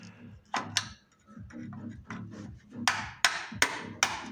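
A hammer repeatedly strikes the front stabilizer bushing of a Volvo XC90, giving about eight sharp metallic knocks. The blows come at an irregular pace and grow louder and brighter toward the end, with faint clatter between them.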